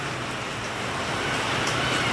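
Heavy monsoon downpour, a dense, steady broadband hiss of rain that stays loud throughout and swells slightly toward the end, with no speech.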